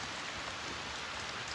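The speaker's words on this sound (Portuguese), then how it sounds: "muita chuva" Heavy rain falls steadily at a rural eco-roof build site with eucalyptus log framing, a dense, even hiss with no pauses and no voices.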